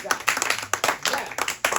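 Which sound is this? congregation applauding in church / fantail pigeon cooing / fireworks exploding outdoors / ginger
congregation applauding in church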